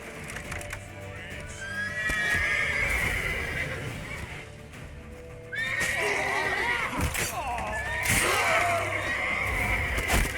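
Horse in a medieval fantasy game whinnying repeatedly over clip-clopping hooves, loud and close, with background shouting and action noise.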